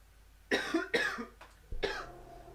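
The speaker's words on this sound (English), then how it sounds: "Also, I apologise about coughing so much." Three harsh coughs in close succession, nearby and fairly loud, with short gaps between them.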